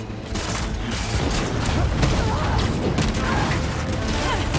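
Rapid gunfire from the Marvel's Spider-Man 2 video game targets ships during a chaotic battle, the dense shooting and mechanical clatter steady and loud throughout.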